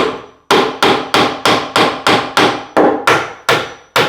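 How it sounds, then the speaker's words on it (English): Heavy mallet striking a wooden staircase joint to drive it home into its mortise during glue-up, eleven loud, evenly spaced knocks about a third of a second apart, each sharp with a short ringing decay. "remember the sound we want is that kind of dead sound when it hits the back of the hole on the other side of the mortise"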